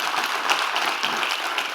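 Small group at a CrossFit gym clapping for someone, close and fairly loud, with individual hand claps audible within the steady applause.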